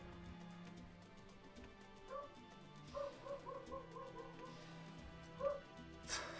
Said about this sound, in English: These dogs are going crazy.